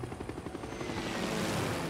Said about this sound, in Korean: 헬기 좋아. 헬기 좋아.